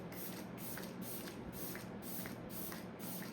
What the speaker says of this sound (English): I've generously sprayed this all over my face